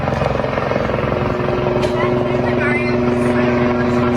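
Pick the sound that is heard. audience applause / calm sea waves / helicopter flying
helicopter flying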